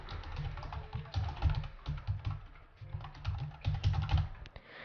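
Typing on a computer keyboard while entering an email address: quick, steady runs of close key clicks with brief pauses between bursts.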